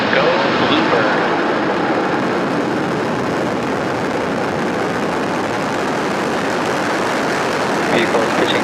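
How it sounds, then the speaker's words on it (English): A SpaceX Falcon 9 rocket's engines ignite and lift off at night from Florida, producing a loud, continuous broadband roar that fills the whole stretch, with a voice calling out over it. "Ignition. And liftoff. Go Falcon, go BlueBird."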